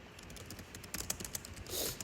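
Someone types on a computer keyboard, a run of quiet, uneven clicks and taps close by, a few keystrokes sharper than the rest, ending in a soft brushing sound.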